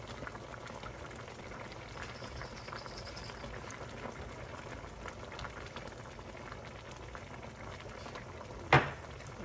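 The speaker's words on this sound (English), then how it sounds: "our pot is bubbling a little bit" A pot of Jamaican brown stew fish sauce bubbling and simmering steadily and softly up close, with one brief clatter near the end.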